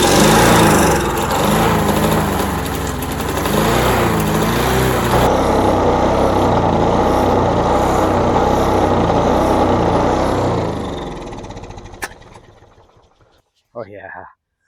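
A Toro SuperRecycler lawnmower engine, in great condition, runs loud and steady for about eleven seconds, surging as it is fed fuel, then sputters and dies away, followed by a brief clatter near the end.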